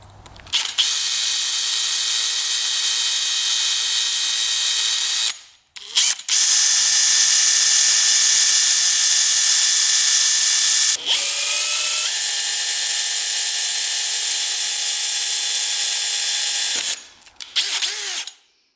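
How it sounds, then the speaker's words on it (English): A power drill whines loudly in long bursts drilling out a broken screw on a dirt bike, stopping briefly twice and shifting pitch as it bites, with short pauses between runs. "So we're gonna drill that out and try to use the easy out to get that out of there."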